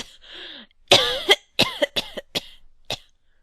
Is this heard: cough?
yes